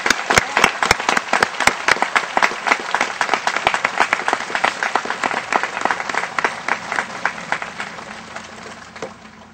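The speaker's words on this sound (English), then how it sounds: "So let's give those people applause and everyone that's there." Crowd applause at a Memorial Day observance, loud brisk clapping with many distinct claps close by, fading and thinning out toward the end.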